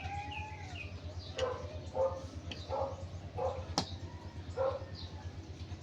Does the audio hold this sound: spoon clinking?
no